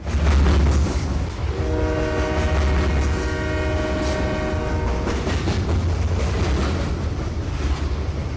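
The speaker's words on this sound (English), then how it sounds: "is there a freight train coming through?" A freight train rumbles past with a loud horn blast sounding over the steady rolling clatter of the cars.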